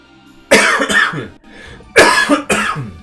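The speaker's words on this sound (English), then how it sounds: "Forgive the coughing fits that I'm gonna have." Four harsh coughs in two pairs, loud and close, separated by a brief quiet breath between them.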